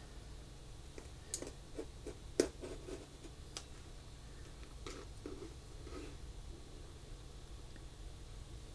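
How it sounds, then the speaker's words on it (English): Knife slitting vanilla beans, a quiet series of small clicks and scrapes over a soft background hiss, one sharper tick among them, no talk. "So I'm just cutting a slit in the beans."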